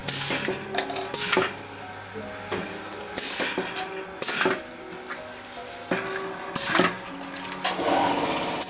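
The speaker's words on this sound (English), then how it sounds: "Chrysalis arrived with a cup filling and sealing machine" A cup filling and sealing machine running close by, with repeated loud mechanical clacks and pneumatic hiss bursts in an irregular cycle over a steady motor hum.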